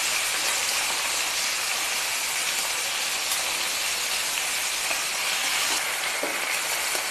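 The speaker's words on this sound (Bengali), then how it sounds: "এইভাবে প্যানটা ধরে আমি আস্তে আস্তে মাছটাকে একটু কাত করে ভেজে নেব" Pomfret fish sizzles steadily in hot oil in a tilted pan, a dense, continuous frying hiss held close and loud throughout, with faint clinks and no talking.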